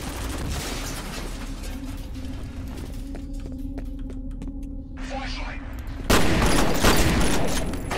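Security turrets fire in a video game, a steady rattle of rapid shots running under noisy game action before a louder burst of effects near the end.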